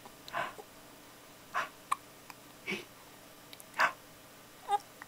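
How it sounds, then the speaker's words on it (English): A baby hiccuping, five soft, short hiccups spaced about a second apart, close and quiet against a calm room, with a few faint tiny clicks between them. "Have you got the hiccups?"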